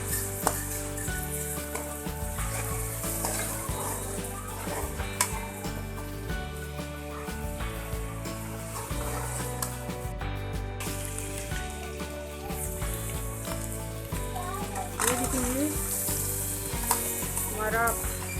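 Continuous crackling sizzle of garlic, ginger and chili frying in oil, with intermittent spoon scrapes and stirring clatter, close by, no talking.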